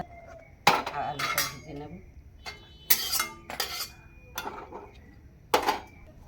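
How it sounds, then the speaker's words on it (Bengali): Boiled figs are tipped from a metal pot into a basket. Sharp metallic clanks and scrapes of cookware come in irregular bursts, close and fairly loud, with quieter moments between. "এবার ঢেলে নিচ্ছি ডুমুরগুলো।"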